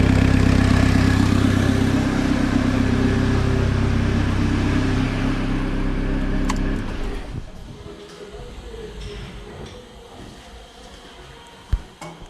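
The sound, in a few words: diesel engine exhaust blowing from pipe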